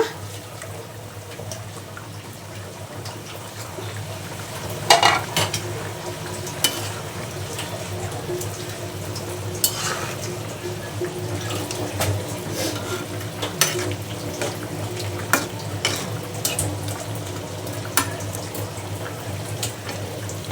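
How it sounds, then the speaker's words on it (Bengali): Fish curry with fried fish simmering in a pan, a continuous low bubbling and sizzling with scattered soft clinks and stirring knocks, close and steady throughout with no talk. "দেখো ঝোলটা ফুটে উঠছে"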